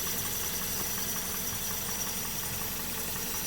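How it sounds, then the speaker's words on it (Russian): A Daihatsu Be-Go (Toyota Rush) engine idles with the hood open, a steady, even mechanical hum with a soft rhythmic patter, heard up close and alone without talk. "стоит, слушайте, как работает движок"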